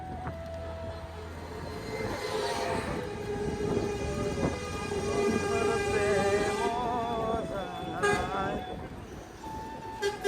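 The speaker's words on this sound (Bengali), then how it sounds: "এই হলো হাইটেক ট্রেন" A Hi-Tech commuter train passes close by in Kaliakoir, with a rumbling roll of wheels on rails, sustained horn tones and squealing, rising and falling as people talk nearby.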